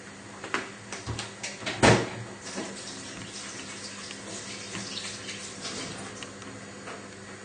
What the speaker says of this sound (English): now you can go and wash your hands